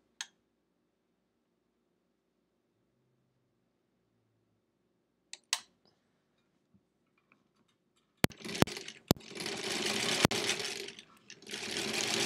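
Sewing machine stitching a foundation paper pieced quilt block, quiet handling clicks at first, then a loud whirring run of stitching with short pauses near the end.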